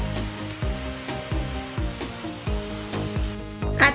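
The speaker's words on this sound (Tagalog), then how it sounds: "Kaya talagang bumili kami ng blower for grooming." A dog grooming blower drying a Golden Retriever after a bath, a loud steady rushing whine that pulses as the nozzle moves, with a sharp louder gust near the end.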